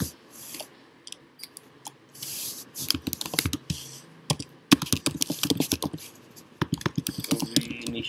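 Typing code into an Android app project on a computer keyboard, close and clear, with irregular bursts of key clicks and short pauses, growing busier and louder toward the end.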